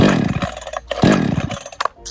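A Salem Master Pro chainsaw engine runs close by with a buzzing, raspy rev that surges and dips twice in quick pulses before dropping away.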